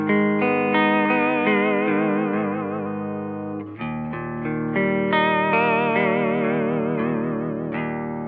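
Guitar chords run through a Boss VB-2w vibrato pedal in unlatch mode, with sustained harmonics wavering in pitch as the vibrato swells in and out, loud and close, with a brief drop and re-attack midway and no talking.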